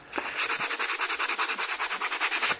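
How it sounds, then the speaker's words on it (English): Folded sandpaper rubbed back and forth inside a gear hole, a fast even run of about twenty rasping strokes, close and fairly loud with no voices. "And then use sandpaper, always worth just folding it a few times, put your thumb underneath a nice wodge of it,"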